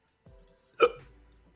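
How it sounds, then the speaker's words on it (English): A single sharp hiccup, loud and close, comes after a brief low rustle, then fades into quiet. "You have hiccups?"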